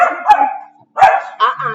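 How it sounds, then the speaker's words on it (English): A dog barks at home, giving three close, loud barks with short pauses between, the last trailing into a higher yip. "no barking. Not right now, please. I'll give you bark time."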